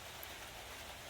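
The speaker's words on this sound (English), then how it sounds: "It's raining outside" Rain falls outside as a steady, faint, even hiss with no distinct drops or pauses.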